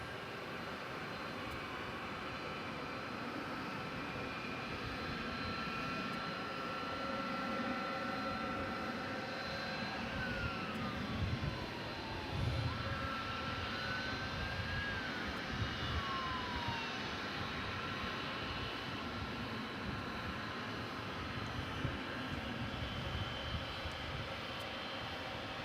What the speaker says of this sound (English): You probably hear a plane back there, don't you?